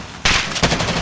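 Rapid gunfire in Call of Duty Warzone on Rebirth Island, a loud burst of close shots that starts abruptly and repeats in quick succession.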